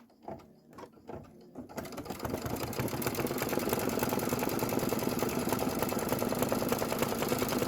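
A computerized embroidery sewing machine stitches a tire appliqué for a Kimberbell Main Street Celebration pickup truck design; after a few soft handling clicks, a steady, fast mechanical whir and needle chatter starts and continues unbroken, close by.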